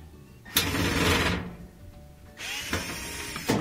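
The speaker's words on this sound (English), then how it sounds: "I'll use my Phillips head screwdriver to remove the two screws that hold on the lid switch." A Phillips screwdriver backing out lid switch screws on a GE laundry center washer, with two loud whirring, grinding bursts of turning and scraping metal up close, and no talk.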